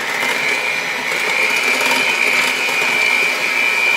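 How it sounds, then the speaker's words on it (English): Electric hand mixer whirring steadily through banana bread batter, a close, constant high whine with a slight rattle that holds unchanged for the whole stretch, with no talk. "I'll grab my mixer again."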